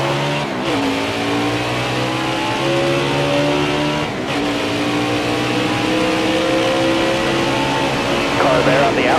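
Race car engine accelerating hard at Darlington in a racing video game, a loud sustained roar with rising and falling pitch as gears change, other cars audible nearby, and a voice talking over it.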